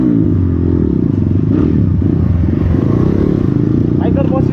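An Asian Beast 250cc dirt bike idles with no dB killer fitted, giving a loud, close, throaty engine rumble that stays steady throughout. Someone talks over the engine noise.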